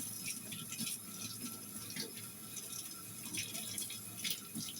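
Tap water runs as ginger is rinsed clean before slicing. The flow is faint and steady, with light splashes and rinsing noises and no talk.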